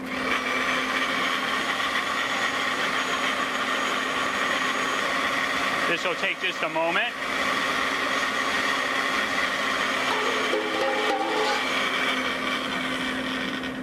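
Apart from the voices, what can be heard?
blender running on high, blending cilantro sauce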